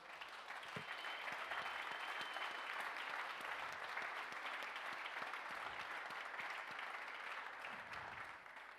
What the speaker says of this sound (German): zu danken und das bitte auch mit einem gemeinsamen Applaus